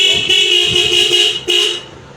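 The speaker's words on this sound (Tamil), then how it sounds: "ஹார்ன் அடித்தோம்." A steady, loud horn on an electric loader vehicle honks twice, a long blast followed by a short one after a brief break, with no talking.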